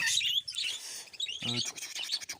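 Several small birds chirp and tweet in an aviary holding sky-blue budgerigar-type birds, a dense overlapping chatter of high calls with a brief louder squawk near the middle, fairly close and lively throughout.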